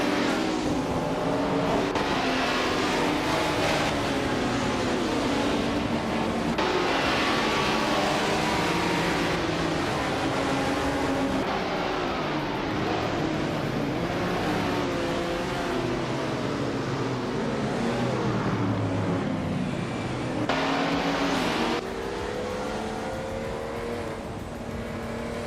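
A classic 1977 Porsche 936 and other race cars at Eastern Creek's Brabham track in a racing game, engines howling and shifting pitch as they accelerate and pass, loud and continuous without talk.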